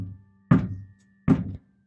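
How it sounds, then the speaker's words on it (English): Two loud, hollow knocks from a knocking sound effect, spaced under a second apart, each sharp and close against near silence. "3 knocks."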